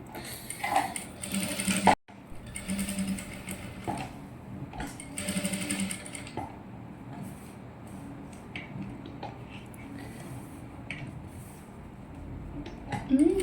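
A sewing machine stitches the neckline of a child's silk dress, running in steady bursts with a brief pause near two seconds, close and fairly loud throughout.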